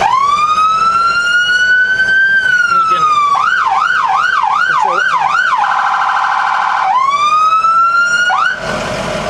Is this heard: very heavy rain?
no